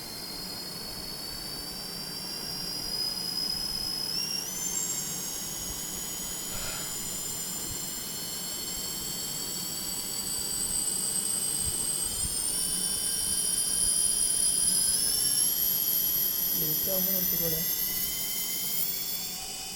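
Brushless motors of a budget racing drone spinning during a motor check, a steady high whine rising in pitch in steps over the clip, close and loud, with a brief voice near the end.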